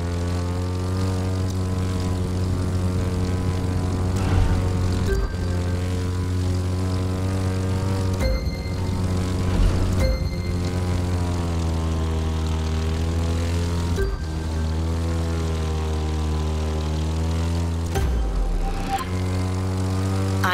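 Propeller airplane engine in the racing game The Crew, flown upside down at low altitude, with a steady loud droning hum and pitch that rises and falls with a few brief breaks throughout.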